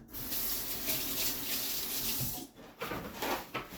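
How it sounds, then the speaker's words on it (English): A kitchen tap runs steadily as hands are rinsed under it, a close, continuous broadband wash of water that breaks up briefly near the end as the hands move through the stream. "I need to rinse my hands"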